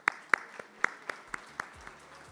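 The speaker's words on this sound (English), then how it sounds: "A round of applause." A few people clapping at a military veterans suppliers information day, about eight sharp, separate claps at a slow, uneven pace, close and fairly loud, tapering off.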